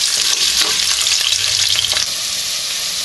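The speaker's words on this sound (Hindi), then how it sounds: "turn on the medium heat, half cup oil and add the potatoes and fry for" Potatoes fry in half a cup of oil over medium heat, giving a loud, steady, close sizzle with bubbling crackle, easing slightly toward the end; no voices.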